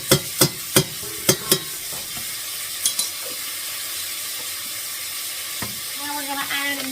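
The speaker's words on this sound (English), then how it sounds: "I'm just going to add in this minced garlic" Minced garlic goes into a pan of pasta, giving a few sharp stirring clacks early on, then a low steady sizzle that swells slightly near the end.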